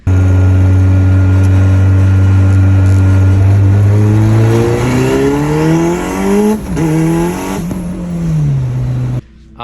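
A turbocharged Honda B18B1 non-VTEC engine making over 600 wheel horsepower revs loudly, climbing in pitch through the gears with abrupt full-throttle shifts, brief popping drops between pulls, close by.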